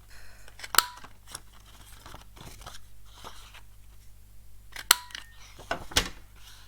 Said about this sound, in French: On peut dès maintenant découper.